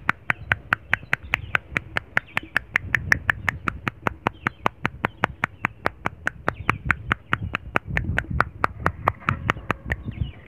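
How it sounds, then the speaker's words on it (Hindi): A man claps with a single hand in a village setting, producing about forty sharp, evenly spaced slaps in a steady quick rhythm, close and loud, with faint outdoor background and a bird. "एक हाथ से ताली बजाओ"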